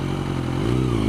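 A motorcycle engine revs hard near the top of its range, a loud, close, steady drone that rises slightly in pitch partway through as it pulls.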